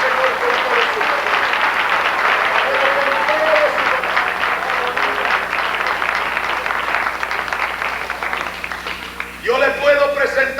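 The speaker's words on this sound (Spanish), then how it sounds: "Den una aplauso al Señor con todo su corazón." A church congregation applauds throughout, a dense steady wash of many hands clapping together at fairly close range, with a preacher's voice sounding over the clapping in places.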